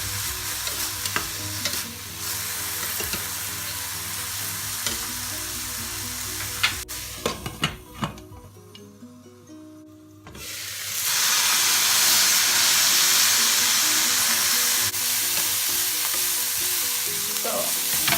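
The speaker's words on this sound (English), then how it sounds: "Put a spoon of vegetable broth. Saute about 10 minutes." Turkey and vegetables sautéing in a pan with a spoon of vegetable broth, with steady sizzling and stirring scrapes, quieter at first and then a loud, continuous steamy hiss from about ten seconds on, with no talk.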